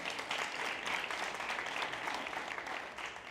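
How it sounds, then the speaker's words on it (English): Audience applause at a 1 Million Cups startup gathering in Brownsville, Texas: steady, dense clapping from a crowd, fairly distant and even throughout with no talk over it. "I'll take some applause for that"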